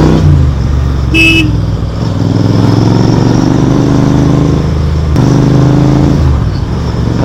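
Royal Enfield GT 650 motorcycle ridden on a public road, a steady loud engine drone with low rumble running throughout, a brief horn toot near the start and passing traffic noise.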